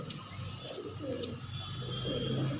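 Gande pigeons with purple feet cooing in a shop cage, soft low coos repeating through steady background noise.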